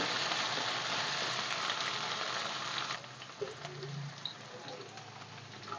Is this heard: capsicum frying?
yes